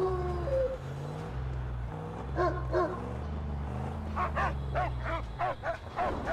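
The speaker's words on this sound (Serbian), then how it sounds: "Čim krene tako brzo da laje, znači da je mina blizu." A dog in the Mad Max video game barks quickly and repeatedly near a buried land mine, a string of sharp yips over a low, steady engine drone, with no talk over them.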